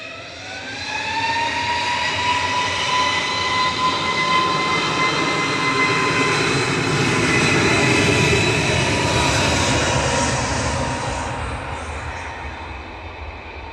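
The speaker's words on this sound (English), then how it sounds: "Virgin Atlantic Flight 86 from Las Vegas, just touching down there" A Virgin Atlantic A350-1000 arriving from Las Vegas touches down at Manchester Airport, its jet engines whining with descending tones and swelling into a steady roar that fades near the end, no talking.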